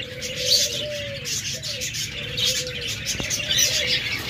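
Caged budgerigars, cockatiels, doves and lovebirds fill the air with a dense, constant wash of high chirping, while a dove coos low and repeatedly underneath, all close and fairly loud.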